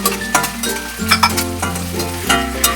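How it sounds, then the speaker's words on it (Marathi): Browned onion with ginger and green chili sizzles loudly in a hot pan for restaurant-style chicken fried rice, with steady frying crackle, scraping stir strokes and a tonal hum underneath. "ब्राऊन झालेली कांदा टाकूया."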